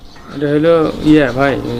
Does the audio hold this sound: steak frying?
no